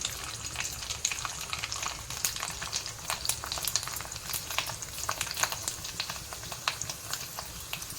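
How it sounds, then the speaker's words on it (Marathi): Sabudana and potato chakli deep frying in hot oil, a dense bubbling sizzle with rapid crackling pops that holds steady and fairly quiet for the whole stretch, no talking. "तेल चांगलं गरम झालेलं आहे आता मी चकली टाकत आहे चांगले तेलात फ्राय करून घ्यायचे"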